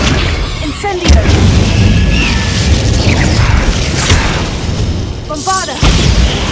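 An Incendio fire spell is cast in Hogwarts Legacy, a sustained loud roaring whoosh of flame with crackling bursts, accompanied by game sound effects over the length of the clip.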